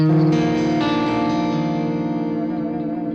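A sustained clean electric guitar chord ringing out with a shimmering effect, loud and close, slowly decaying.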